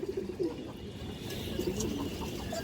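A khaki female pigeon of silver-ripe colouring gives soft low coos, a few short murmured calls close by over faint background noise.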